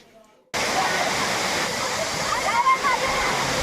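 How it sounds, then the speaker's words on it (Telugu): A waterfall near Lambasingi, outside Vizag, where crowds are enjoying the falls, bursts in as a loud, steady, close roar of rushing, splashing water that holds constant to the end. "ఇదేనండి వాటర్ ఫాల్స్"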